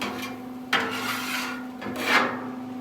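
Scraping across a Blackstone griddle while cleaning after cooking cheesesteaks, two broad rasping strokes over a steady low hum, close and fairly loud.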